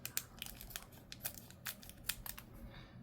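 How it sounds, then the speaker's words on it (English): Faint, quick snipping and crinkling of scissors cutting open the thin plastic wrapper of a One Piece trading card pack, in a steady series of small crisp cuts. "I'm going to use a pair of scissors on this"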